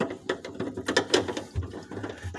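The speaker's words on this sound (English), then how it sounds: "So you just put in this screw." A screw being driven in during a leaking-fridge repair, giving a rapid run of close ratcheting clicks and mechanical grinding bursts, with a low thud near the end.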